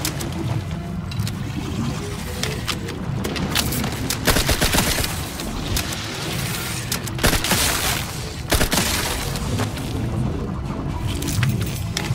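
Gunfire in the sci-fi shooter game The Outer Worlds 2, dense loud volleys of rapid automatic shots and booming hits running continuously with brief gaps, crowded and close.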